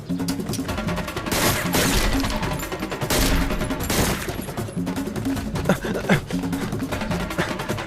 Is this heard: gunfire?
yes